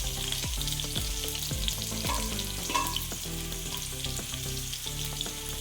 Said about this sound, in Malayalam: ഓയിൽ ചൂടായിട്ടുണ്ട്. അതിലേക്ക് ബീൻസ് ഇട്ട് കൊടുക്കുകയാണ്.